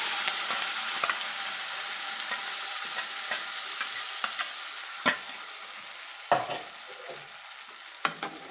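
Ground spice paste sautéing in a pan for a Tamil-style egg drop curry, giving a steady close sizzle with occasional sharp scrapes and stirring knocks, no talk.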